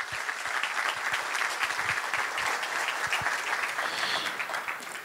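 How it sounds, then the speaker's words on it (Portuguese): A large audience at a program launch event applauds steadily for the samba schools, a dense continuous roar of many clapping hands with no break. "Queria uma salva de palmas para elas."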